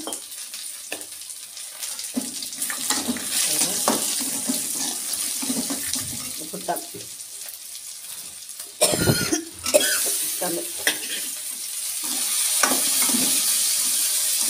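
Chopped tomatoes sizzle and fry in a pan for a palak moong dal curry, a steady bright hiss with stirring scrapes and a brief louder burst midway, no voices.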